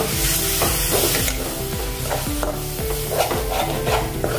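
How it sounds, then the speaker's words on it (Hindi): Spoon stirring drumstick curry in a hot pan after ground dried red chilli and a little water go in: repeated scraping strokes over a steady close sizzle, with no talking. "चम्मच से हमने मिक्स कर लिया है।"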